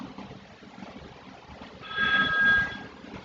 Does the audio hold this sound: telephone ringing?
yes